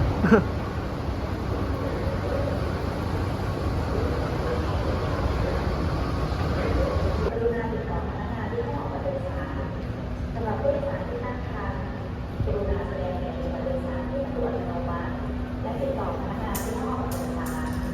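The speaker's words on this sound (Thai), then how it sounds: "ตอนนี้รถไฟกำลังวิ่งเข้า สถานีแล้วทุกคนนี่มาแล้ว" A metro train rumbles into an underground station in Bangkok with a loud, steady roar and rattle that carries on throughout, with a brief hiss near the end.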